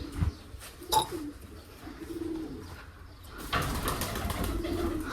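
Pigeons coo softly nearby in low, rolling calls, with a few sharp knocks and rustles in between.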